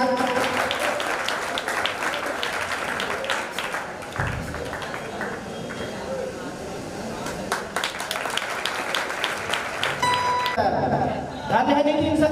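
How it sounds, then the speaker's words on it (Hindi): Applause from a crowd at a teacher farewell ceremony, a loose spread of clapping that rises and falls under ongoing speech and chatter, with a small burst of louder clapping near the end. "जोरदार तालियों के साथ"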